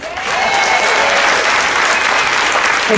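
Audience applause on a cruise ship magic show as a volunteer heads to the stage, a dense, steady wash of many hands clapping that swells in quickly and holds loud throughout.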